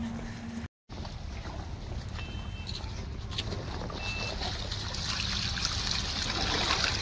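Steady soft trickling of irrigation water running into a farm field continuously at close range, with faint outdoor background noise and no talking.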